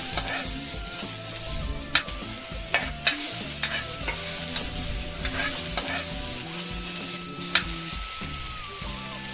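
Ginger, garlic and onion sautéing in a pan for a red bean gravy, a continuous close sizzle with scattered sharp clinks and scrapes from a spoon stirring, no voices.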